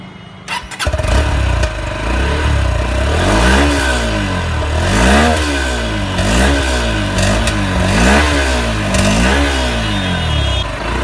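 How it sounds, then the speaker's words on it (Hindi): Honda XBlade 160cc motorcycle, a 2021 BS6 model, starts up and its exhaust revs loudly, rising and falling in about five distinct throttle blips close by, with no talking. "so now let's hear the exhaust note of this bike"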